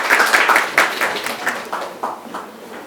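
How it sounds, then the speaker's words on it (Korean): An audience at an AI and design panel discussion gives brief, dense applause that welcomes the panel and fades over a few seconds. "박수로 환영해 주시기 바랍니다"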